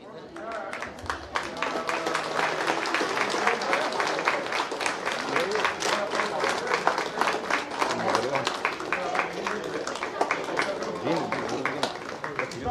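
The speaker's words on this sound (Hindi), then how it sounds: "तालियों की गूंज रुकनी नहीं चाहिए।" An audience at a national seminar at St. Augustine's College, Manoharpur claps loudly and continuously, a dense sustained roar of many hands that holds steady throughout.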